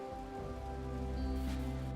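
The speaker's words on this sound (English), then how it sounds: "Oh, it's raining anyways." Rain falling in the video game RimWorld, a soft continuous patter over a steady hum of game sound, with no talk.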